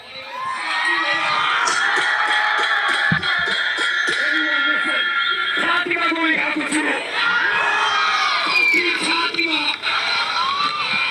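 A large, dense protest crowd of young people in Nepal shouts and yells continuously, with loud overlapping cries and chanting voices filling the scene at close range.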